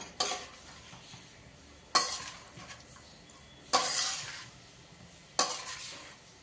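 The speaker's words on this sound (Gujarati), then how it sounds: "આવો તાવીથીથી હલાવી લઈશું" Small boiled potatoes for Botad-style bhungla bateta are turned in a spiced pan with a flat metal spatula, making four distinct scraping strokes with a soft sizzle fading between them, close and clear with no talking.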